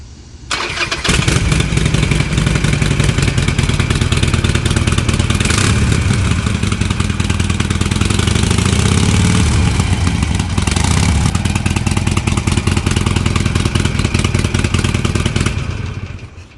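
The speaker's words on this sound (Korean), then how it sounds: "제 동생 바이크 상태를 체크해야 되기 때문에 엔진 소리를 한번 들어보겠습니다." A Harley-Davidson motorcycle engine fires up and settles into a loud, steady, rumbling idle close by, running continuously before cutting off at the end.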